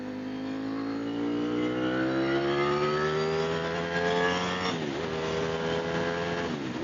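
A 2021 Ducati Streetfighter motorcycle engine revs up steadily, its buzzing tone climbing in pitch for several seconds before dipping and holding, loud and close with no talking.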